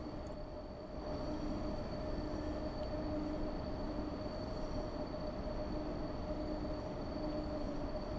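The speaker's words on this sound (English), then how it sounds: "I also like the little rail squealing that you hear" A Class 90 electric locomotive in Train Sim World 6 rumbles steadily along the West Coast Main Line, with a faint, thin rail squeal sustained over the continuous low wheel noise and no talking.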